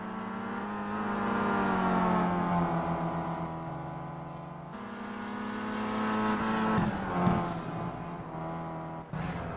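Race car engines of a BMW and a Seat in a WTCC touring-car race in the Simraceway racing game, a steady droning whine that rises and falls through gear changes, with a brief scrape near the end.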